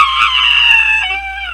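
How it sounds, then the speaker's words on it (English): A sea witch lets out a high, wailing scream as a ship's prow strikes her, loud and sustained before it tapers into a falling cry over a low hum. "As the boat struck the witch, she let out a terrible scream."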